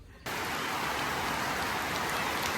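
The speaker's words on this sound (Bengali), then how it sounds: "সাড়ে বারোটা বাজে আবারও বৃষ্টি নামছে এমন বৃষ্টি নামছে" After a brief quiet moment, heavy rain comes in suddenly and stays loud and steady, a dense, even roar of falling water.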